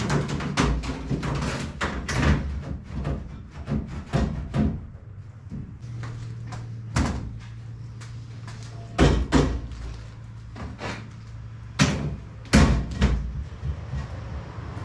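A Titan fridge slide drawer runs open and shut several times, giving loud rolling rumbles and sharp knocking slams at the ends of travel, with a steady low hum in the background between strokes.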